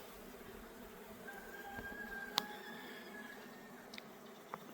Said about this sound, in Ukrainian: бджоли активно літають